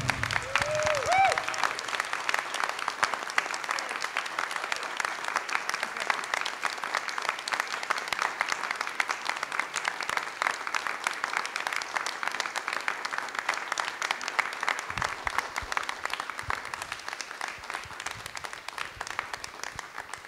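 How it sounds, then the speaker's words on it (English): A panel discussion audience gives a round of applause in tribute, heard as a long steady wash of distant, faint clapping that lasts about twenty seconds and thins slightly toward the end. "let's have a moment of applause or a round of applause for Issei."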